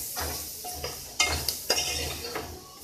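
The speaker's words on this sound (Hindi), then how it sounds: "और अब हम इसे 1 मिनट के लिए धीमी आंच पे भून लेते हैं।" Cumin and black pepper powder roasting on low heat in a pan, a few short scraping stirs with light metallic clinks of a spoon, close and quiet with no talk.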